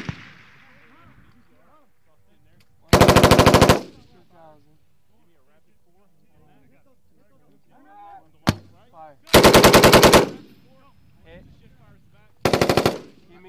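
Loud automatic bursts from a machine gun on a military training range during a fire support coordination exercise at Pohakuloa, three long bursts several seconds apart, with soldiers talking quietly in between.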